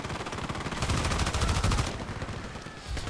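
Rapid automatic fire from an M249 SAW light machine gun in a video game rattles close and loud, a sustained burst that tapers off near the end, with no voices.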